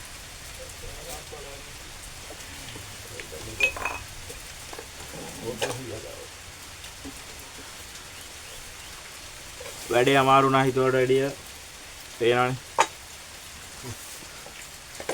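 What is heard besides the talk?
heavy rain at a rock cave on Mawaragala mountain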